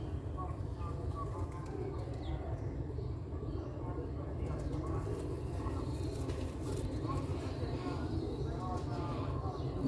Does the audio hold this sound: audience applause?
no